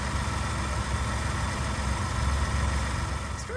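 A 3.5-liter V6 in a 2022 Ford F-150 XLT 4x4 with an automatic transmission idles in a steady, even rumble. It is close and constant, with no revving and no voices.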